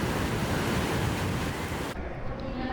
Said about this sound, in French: les vagues, elles sont trop violentes